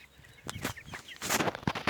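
Young chickens, about two to three months old, cluck in a backyard coop in a few short, scattered bursts, fairly faint and close by, with no talking.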